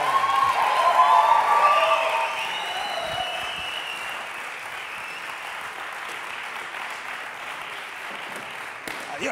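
Applause from an audience, loudest at first and then thinning to lighter, steady clapping that continues to the end.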